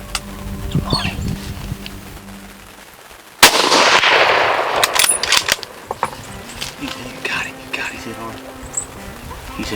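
A single loud, sharp rifle shot cracks out while deer hunting in the woods, followed by a lingering rumbling echo; people whisper before it and insects buzz faintly in the background.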